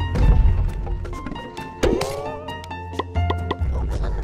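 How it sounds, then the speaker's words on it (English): A bomb thrown beside a house's window in the Boom Blox video game sets off a cartoonish thump and clattering block crashes, with game music tones ringing throughout, moderately loud. "See what it's like throwing a bomb next to the window?"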